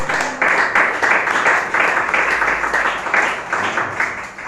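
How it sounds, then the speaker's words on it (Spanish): A church congregation claps together in a loud, rhythmic pulse of beats that carries on steadily throughout. "Un aplauso a Dios, hermanos"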